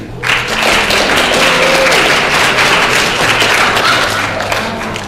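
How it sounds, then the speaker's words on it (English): Workshop attendees give themselves a round of applause, a loud, sustained burst of many hands clapping close by that starts abruptly and holds steady before easing slightly at the end. "please give yourselves a round of applause for being here"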